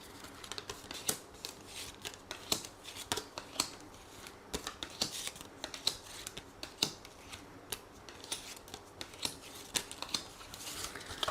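Tarot cards shuffled by hand for a reading, a steady run of quick, soft riffling flicks and slaps close by, with no voice over them.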